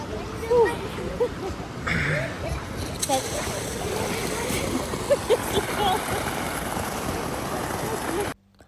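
Bubbling, sloshing water in a spa pool at a thermal bath complex, a continuous churning gurgle with occasional splashes, close and fairly loud, with someone talking over it before it cuts off.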